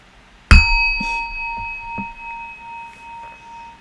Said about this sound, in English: I close it out with this sound bell.